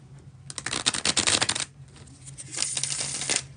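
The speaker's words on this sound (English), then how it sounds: "We are going to do the bridge shuffle." Tarot cards are bridge shuffled in two quick bursts of rapid riffling clicks, close and crisp, with a short pause between them.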